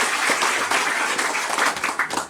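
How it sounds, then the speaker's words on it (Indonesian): A short burst of lively applause from a crowd, dense overlapping claps fading slightly toward the end. "Saya kira tepuk tangan untuk Pak Kadi sini."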